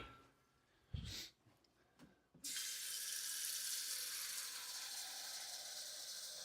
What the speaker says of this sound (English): Put some water in a pot